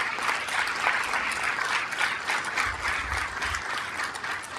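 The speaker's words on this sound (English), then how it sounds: "vamos a darle un round of applause for the parents" A city council meeting audience applauds the parents, a brisk even wash of many hands clapping that continues throughout with a few low thumps.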